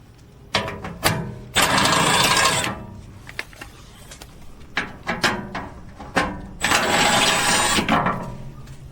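Socket wrench ratcheting out 10 mm bolts from the skid plate under a Lexus GX during an oil change: bursts of rapid close clicking alternating with longer continuous ratchet runs and small metal knocks.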